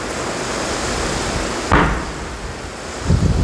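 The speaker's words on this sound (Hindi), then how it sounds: "ये देखिए एकदम पूरी झमाझम बारिश हो रही है" Heavy rain pours down during a sudden storm, a dense steady hiss with a couple of louder splashy bursts, no talking.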